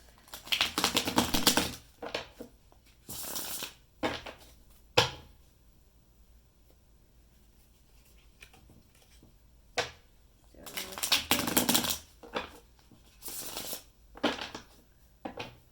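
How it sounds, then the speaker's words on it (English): Tarot cards are shuffled in loud, rapid riffling bursts separated by quiet pauses and a few sharp taps. "the shuffles are really loud"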